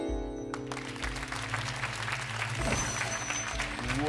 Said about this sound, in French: Je voudrais qu'on applaudisse très très fort Christophe